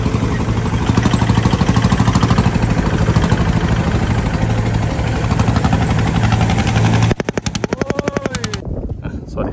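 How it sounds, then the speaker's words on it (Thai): An Itaen farm vehicle engine starts and idles loudly up close with a rapid, hard chugging pulse that stops suddenly, followed by sputtering knocks as it runs down. "ติดเครื่องแล้ว"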